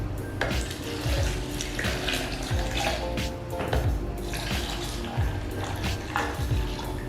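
Water being poured onto oats for homemade oat milk, a steady faint splashing and trickling with a few light clinks of a container, close by and without talk.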